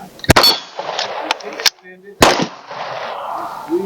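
Sharp gunshots crack at an outdoor shooting range, several loud close reports spaced unevenly across a few seconds, with metallic clinks and outdoor ambience between shots.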